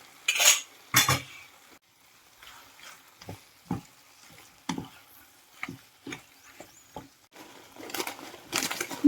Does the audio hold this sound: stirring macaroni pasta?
yes